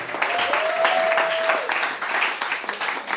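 A church congregation applauds during a French-language sermon, a steady wash of clapping with a sustained tone riding over it, moderately loud throughout.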